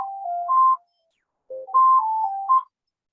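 During a sight conservation meeting, a mobile phone rings with a loud electronic melody of simple beeping tones, played in two bursts with a short silence between them.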